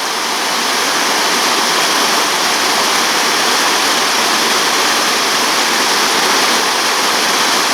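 River water pouring over an old weir on an Irish river: a loud, steady, broadband rushing roar with no pauses, heard close up and continuous throughout.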